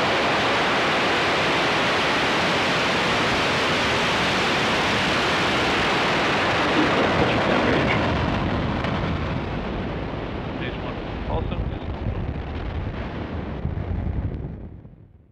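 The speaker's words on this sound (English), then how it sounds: "engines full power, and liftoff" A Falcon rocket lifts off on a Starlink mission, a massive continuous broadband roar filling the whole stretch, steady and loud before slowly fading at the end, with a voice faintly under the thunder.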